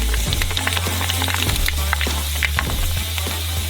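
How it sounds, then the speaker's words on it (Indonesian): Boiled soba noodles hit oil heated above 200 degrees, giving loud, close, continuous sizzling and frying with scattered pops and crackles over a low rumble. "Ini akan mulai menggoreng dan muncul seperti popcorn."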